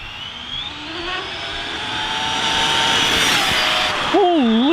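An ARRMA Infraction 6S BLX RC car with a 27T pinion makes a speed pass, its electric motor whine rising steadily in pitch as it approaches and grows louder, with a sharp swerving squeal near the end.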